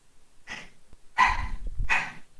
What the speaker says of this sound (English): And that's a dog.